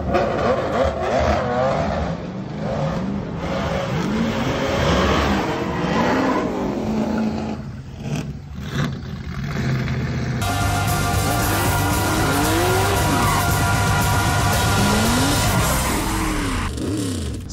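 A car drifts with handbrake turns through a car park, engine revving hard and loud with screeching tire squeals rising and falling as it slides, close and continuous throughout.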